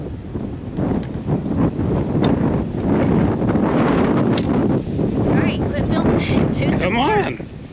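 Heavy wind buffets the microphone outdoors during tree planting, a loud continuous low rumble with gusty surges throughout, and faint voices mixed in near the end.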